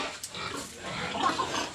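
A pig grunts and snuffles at close range in short, rough bursts, with no talk over the sound.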